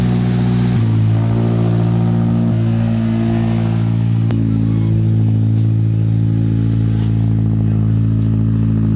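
A Subaru BRZ or Toyota GR86 fitted with a new aftermarket exhaust, idling close and loud with a steady droning note and a brief blip of revs partway through.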